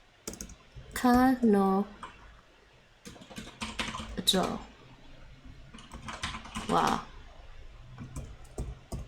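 Fingers tap rapidly on a computer keyboard while switching to Japanese input, a close, irregular clatter of keys. A person speaks intermittently over the typing.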